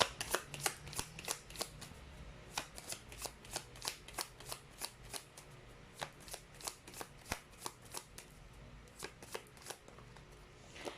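Tarot cards being shuffled during a card reading, with rapid, crisp riffles and slaps repeating in quick irregular bursts throughout, close and quiet, with no talking.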